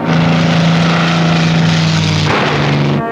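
A propeller aircraft drones loudly and steadily overhead, its engine hum holding a constant pitch before shifting slightly near the end, with no talking over it.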